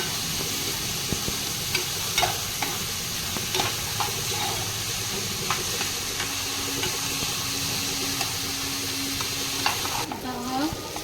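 Chopped onion sautés in a hot pan until golden, giving a steady close sizzle with a few scraping stirs and faint clinks throughout.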